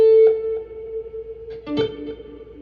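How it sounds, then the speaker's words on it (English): A guitar string is plucked and rings through an echo effect unit, the note repeating and decaying in distinct echoes, followed by a second pluck with a short, slightly distorted repeat, played alone with no talking. "you'll hear an echo if I just, it's obvious if I pluck the string"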